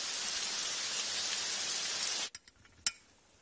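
Heavy rain falls in a steady, hissing downpour that suddenly cuts off, leaving near silence broken by a couple of sharp clicks or drips.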